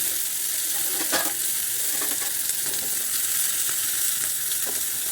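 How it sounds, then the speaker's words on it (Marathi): Chana dal, urad dal, cumin and mustard seeds fry in hot oil with chillies for a tempering, giving a loud, dense, continuous sizzle with occasional stirring scrapes close by. "फोडणी करून घ्यायचं चांगली"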